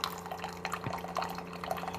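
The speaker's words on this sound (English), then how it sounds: "running fresh water through here to kind of clean it out" A Keurig coffee brewer runs a clean rinse of plain water, with faint dripping and trickling water sounds and a low steady hum from the machine, fairly quiet and close.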